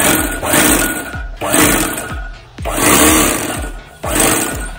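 A small overlock sewing machine runs just after its drive belt was replaced, in four loud, close bursts of rapid mechanical chatter separated by brief pauses.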